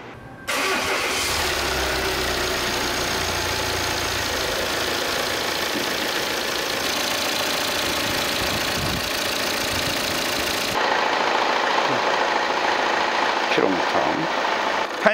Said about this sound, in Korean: 시동 한번 걸고 한번 엔진 소리를 확인하고